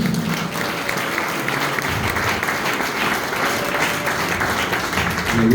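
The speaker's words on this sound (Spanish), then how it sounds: "Da un aplauso al Señor." A church congregation applauds for the Lord, dense sustained clapping from many hands that fills the space evenly throughout, with no talk over it.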